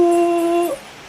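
A single high, drawn-out whine from a dog, steady for a moment before breaking off, close and fairly loud.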